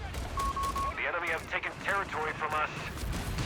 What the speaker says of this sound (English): the double mortars are ripping Manitou apart